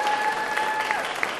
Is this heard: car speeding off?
no